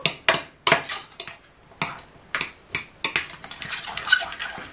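A utensil knocks against a bowl while beetroot is stirred with salt, pepper and vinegar, a series of sharp repeated clinks and scrapes, close and rhythmic, with no talk.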